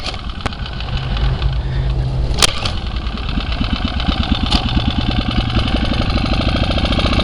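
A Champion 1200/1500 watt portable generator, left sitting for a year, fires up and settles into a steady, close mechanical running drone with a few sharp clanks early on.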